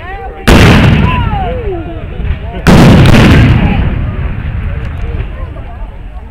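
Two heavy cannon blasts at a Civil War re-enactment of the Battle of Shiloh, a couple of seconds apart, each a sharp loud boom followed by a rolling echo, with faint voices and whistling in between.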